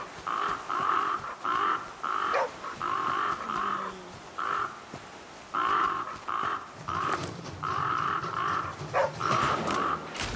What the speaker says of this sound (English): Gosh, crows are so annoying.